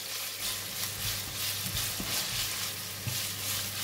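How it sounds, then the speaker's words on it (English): Minced pork frying with a little oil in a nearly dry pan gives a steady crackling sizzle, with faint stirring scrapes now and then and no talking. "fry until the meat is cooked"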